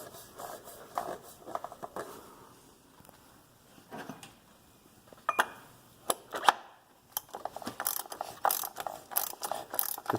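A wrench ratchets an oil filter tight on a 2001 Volkswagen Golf Mk4 TDI during an oil change, giving bursts of sharp, close metallic clicks separated by brief pauses, with no talking.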